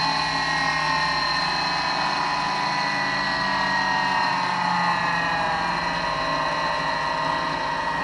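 A pulse motor with a Hall sensor in place of the trigger coil spins at high speed, giving a steady whine of layered high tones over a low hum, constant and close.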